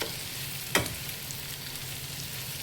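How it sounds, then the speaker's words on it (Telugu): Potato and green peas fry on a stove over low heat with a faint, even sizzle. There is one brief sharp clink near the start and no voices. "ఇవన్నీ కూడా మనకి స్టవ్లో సిమ్లో పెట్టి కొద్దిసేపు మగ్గనిస్తుంది అన్నమాట"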